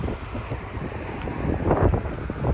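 Steady wind buffeting a microphone beside Queens Plate Drive and Rexdale Boulevard in Etobicoke, Toronto, a broad rumbling roar that swells louder toward the end, with no voices.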